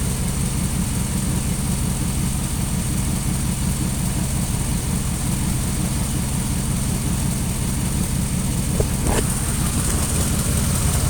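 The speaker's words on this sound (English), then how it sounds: "you can hear the manifold leak" A 2001 Dodge Ram engine with an exhaust manifold leak idles roughly, a steady, loud low rumble with a fast ticking pulse throughout and no speech.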